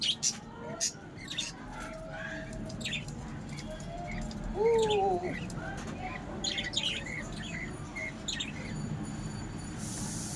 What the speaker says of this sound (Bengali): এটা তোমার পাখি গো।